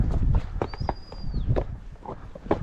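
Shod horses ridden across rocky ground while trailing heifers, their hooves clattering in an uneven, continuous clip-clop close by, with a faint high whistle-like tone briefly above it.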